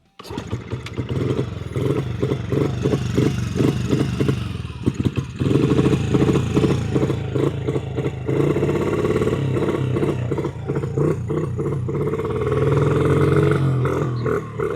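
A Honda CRF/XR 50 dirt bike with a freshly cleaned carburetor runs close by, its small single-cylinder engine putt-putting unevenly and revving up in rough bursts.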